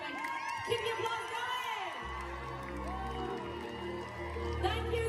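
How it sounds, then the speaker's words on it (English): A theatre crowd at a Starlight Express musical event cheers, whoops and applauds continuously, loud and dense, with a low hum from the venue system underneath. "Keep your applause"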